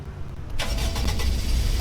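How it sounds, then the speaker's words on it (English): A 1981 DeLorean DMC-12 engine cranks and catches, jumping from a quiet idle hum to a loud, close, steady running roar. "let's get this car started"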